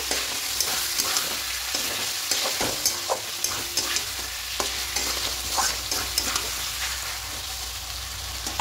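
A spoon works through a salted kacchi biryani mixture of Gobindobhog rice in a pot. Repeated scraping strokes stand out over a soft, steady sizzle, close up, and nobody speaks.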